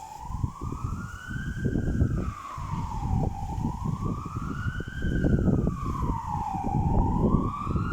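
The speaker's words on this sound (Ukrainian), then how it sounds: "Десь сирена виє," A siren wails in slow rising and falling sweeps, somewhat distant, heard from a church courtyard in Ukraine over steady low rumbling background noise, with no voices.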